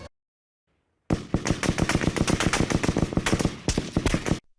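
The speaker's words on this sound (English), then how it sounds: "Automatic gunfire erupted" Automatic gunfire from a drive-by hit by motorcycle riders on a road: a rapid, loud burst of dozens of sharp shots in quick succession, lasting over three seconds after a moment of silence.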